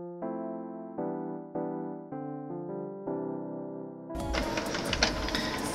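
Canon G3370 inkjet printer working: a run of stepped mechanical whirring tones that shift pitch every half second or so, then a louder, rougher rattling feed and clatter near the end, close and alone.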